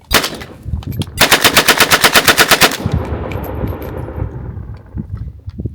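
A Zastava AK rifle is bump-fired: one loud shot, then a rapid string of about fifteen close, evenly spaced reports lasting under two seconds, followed by a lingering outdoor echo.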